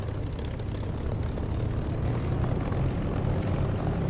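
A propeller aircraft engine in the DCS flight simulator game drones steadily at low taxiing RPM, a constant, loud, even rumble with no talk over it.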